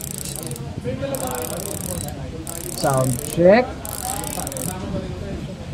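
A Speedone Soldier bicycle rear hub in an oil slick finish ratchets as the wheel spins, giving a steady fast clicking with brief louder bursts, close by, while someone talks over it.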